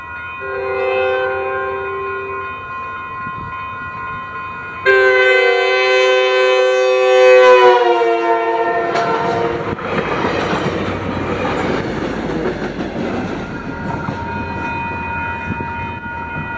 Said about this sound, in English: The next train we caught was a southbound frontrunner with 117 leading.